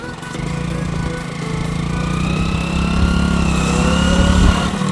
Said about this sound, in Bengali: এই বন্ধু বাইক নিয়ে উঠছে, খুব কষ্ট করে উঠছে